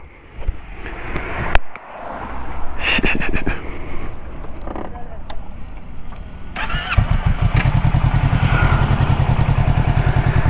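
A 2022 Kawasaki Ninja 650 motorcycle starts with a sharp crank and catches, then settles into a loud, close, rhythmic idle and rising engine note after some clicks and handling clatter.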